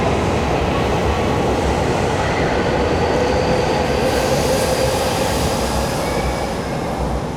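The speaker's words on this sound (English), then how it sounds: "I hope you've enjoyed that rapid transit line, which is a privately owned line as well" A Nankai Airport Line rapid transit train rumbles steadily along the tracks from Kansai Airport toward Osaka, loud and continuous from inside, with faint metallic wheel squeal and rhythmic rail clatter.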